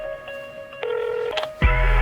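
Telephone keypad tones at the close of a song's phone call: steady dial tones shift pitch a few times, then a louder, low buzzing connection tone takes over near the end, with no talking.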